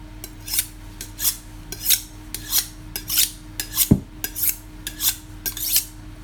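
A kitchen knife is drawn repeatedly across a sharpening tool, about a dozen bright, evenly spaced rasping strokes with one duller knock partway through, close and clear with no talking.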